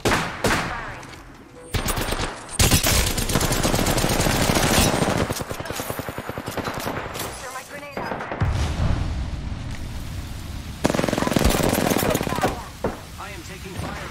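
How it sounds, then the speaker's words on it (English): Automatic gunfire and bursts from a battle royale shooter, Apex Legends, loud and nearly continuous, with a player's voice talking over the shots. "I am taking fire, friend."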